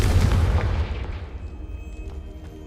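A Confringo fire spell blasts in Hogwarts Legacy, a loud booming burst up front that rolls off into a fading rumble over a couple of seconds, with no one talking.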